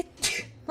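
A single short sneeze bursts out close and sharp, followed by a brief voiced exclamation.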